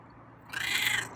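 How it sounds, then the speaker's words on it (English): A single short meow from a feral cat, fairly close and clear, rising out of quiet background. "Oh wow, got a meow,"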